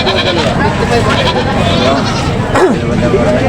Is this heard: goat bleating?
yes